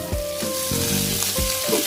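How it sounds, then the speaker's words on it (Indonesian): Fried, mashed tempeh being stirred into a sizzling spice paste in a pan, steady loud frying hiss with repeated scraping stir strokes, no talking. "Aduk-aduk sampai tercampur rata."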